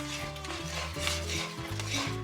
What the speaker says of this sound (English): We are definitely boiling even though that I am stirring